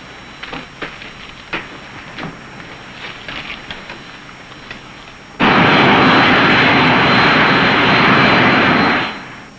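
Aircraft engine held at constant RPM during a climb in an old film, first a muffled drone behind scattered thumps, then a sudden loud roaring blast that holds steady for several seconds before cutting off.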